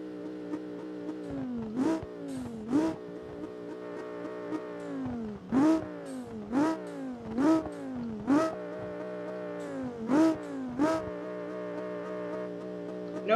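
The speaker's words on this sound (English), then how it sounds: "listen closely when I rev the comfort mode compared to the sport." Virtual car engine in BeamNG.drive compared between comfort and sport modes, revved in repeated sharp bursts that climb and fall back to a steady idle hum, close and fairly loud with no talking.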